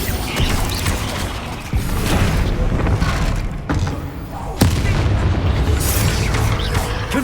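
Bombarda blasting spell explosions in Hogwarts Legacy, a couple of sharp booming blasts with crashing debris over a dense, continuous wash of game combat noise.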